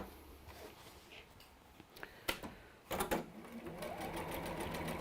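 Sewing machine stitching fabric, a quilted project being top-stitched in a workshop: a few starts and stops with clicks, then a fast steady mechanical whirr of stitching, close and moderately quiet.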